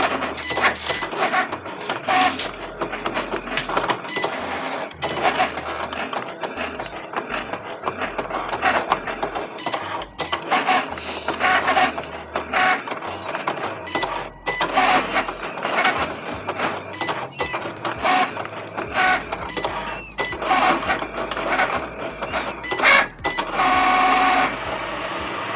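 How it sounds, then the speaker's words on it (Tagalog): A Cricut cutting machine cuts material loaded on its mat, giving a steady close-up run of rapid clicking, whirring carriage movements and stepping motor sounds with brief pauses, alone without talk. "And mag-umpisa na mag-cut yung machine."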